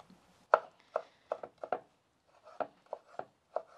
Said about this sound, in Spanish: Bueno, ya tengo el jitomate bien picado.